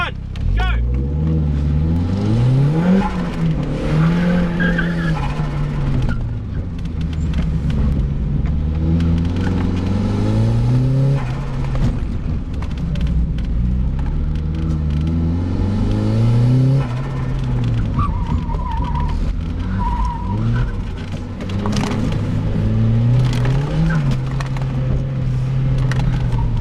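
Turbocharged Mazda MX-5 lapping a skid pan in a motorkhana run, engine revs rising and falling repeatedly through gear changes, loud and close, with some voices mixed in.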